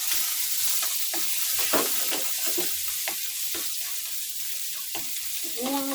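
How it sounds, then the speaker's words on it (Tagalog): Garlic sautés in rendered pork fat in a pan, giving a soft constant sizzle with scattered pops and stirring scrapes, and a voice briefly under it. "Igisa na natin yung ating bawang."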